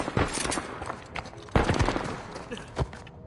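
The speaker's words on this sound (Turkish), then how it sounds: "Patlamaları buradan duyuyorum." Uncharted 4 video game: bursts of gunfire and explosions crackle through a busy soundscape, with several sharp loud hits standing out over continuous background noise.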